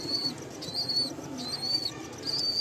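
A breeding pair of pigeons in a home loft gives soft, repeated coos and brief wing flutters, close by and moderately loud over steady background noise.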